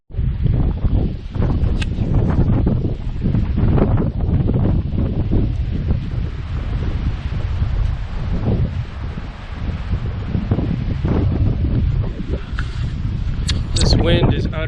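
Strong, gusty wind roars and buffets the microphone at a lakeside campsite, a constant loud rush with rustling through the whole stretch.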